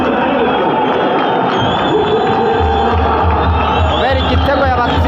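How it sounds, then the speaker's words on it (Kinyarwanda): Football fans in the stands roar and cheer a goal in the Al Hilal versus MC Alger match. The dense crowd noise is continuous and loud, with a commentator's voice running over it. "abafana bamukomera amashyi kubera igitego"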